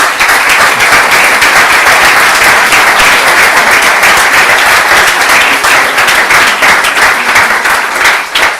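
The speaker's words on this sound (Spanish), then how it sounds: "un fuerte aplauso para ellos" Loud, dense audience applause at a public talk event, continuous and even throughout with many hands clapping together.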